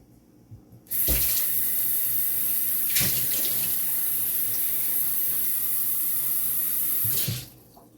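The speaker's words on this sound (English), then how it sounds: "I'm going to add a little bit of water." Water pours steadily from a tap for several seconds into a cooking pot, a constant rushing hiss that starts and stops abruptly.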